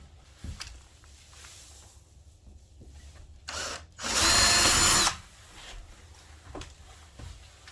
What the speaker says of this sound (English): we'll drill one hole right in that general area